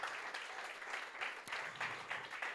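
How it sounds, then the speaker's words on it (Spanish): Church congregation applauding the Lord during a Spanish-language worship service, a dense steady wash of many hands clapping at close range with no voices on top. "denle ese aplauso al Señor"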